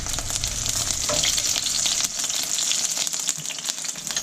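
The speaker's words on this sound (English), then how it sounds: "I hope you can hear me over the crackling and sizzling of all this eggplantness." Eggplant slices sizzle and crackle steadily while being sautéed in a hot pan for maqluba, a dense continuous frying hiss with occasional louder pops.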